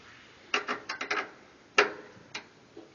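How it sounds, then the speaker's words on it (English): A short stubby screwdriver tightening the screw on a humidifier cover, giving a few close ratcheting clicks and scraping turns in short bursts with brief pauses. "And then use a short stubby screwdriver"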